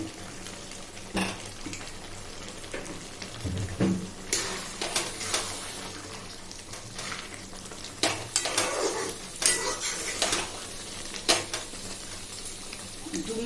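Kochur loti (taro stolons) being stirred in an oiled pan, with steady sizzling and frying hiss under repeated scraping and clinks of a utensil against the pan.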